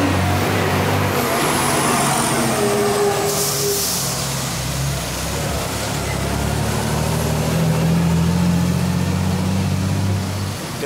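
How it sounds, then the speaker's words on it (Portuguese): Heavy, noisy road traffic passes a bus terminal construction site, a continuous loud rumble of trucks and engines with a brief high air-brake hiss and squeal. "Barulho, muito trânsito."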